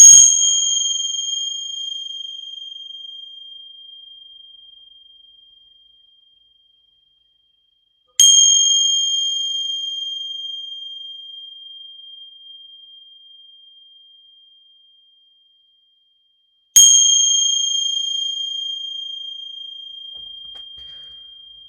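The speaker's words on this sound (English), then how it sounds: "We're going to ring some bells here, and it might be a little loud" A bell struck three times at even, widely spaced intervals, each strike a clear, pure ring that sustains and fades slowly into silence before the next.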